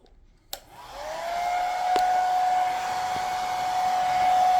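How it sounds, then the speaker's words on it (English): A hair dryer switches on after a click and blows with a steady, loud whirring hum that stays constant to the end. "let's pull out a hair dryer"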